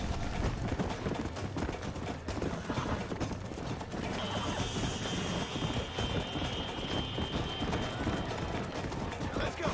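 Hooves clip-clop at a steady galloping rhythm as a horse runs in the Western video game Red Dead Redemption, mixed under continuous game sound and someone talking over it.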